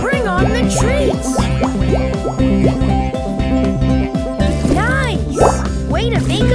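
Cartoon water splashes from diving in a Paw Patrol rescue video game, bright splashy bursts and bouncy boing-like effects over playful background music, loud and busy throughout.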